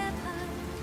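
Heavy rain pours down in a steady, dense hiss, close and continuous throughout with no talking.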